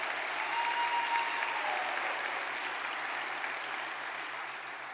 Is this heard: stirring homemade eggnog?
no